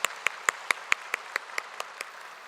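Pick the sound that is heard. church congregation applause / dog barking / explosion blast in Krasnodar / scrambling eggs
church congregation applause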